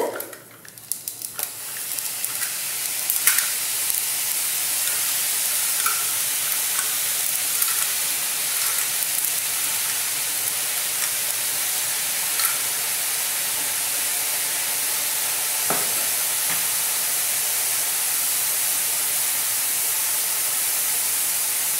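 Sev dough for mohana laddu deep-fries and foams in hot oil, giving a loud, steady, close sizzling hiss that holds unbroken throughout, with only a few faint clinks and no voices.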